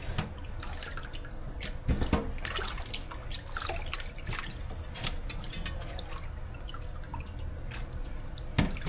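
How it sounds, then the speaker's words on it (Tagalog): Water drips and trickles steadily out of marinated native-meat tapa sitting in a strainer, a continuous close patter of droplets with occasional louder splashes and no talking. "habang naantay kong matanggal yung tubig nito guys"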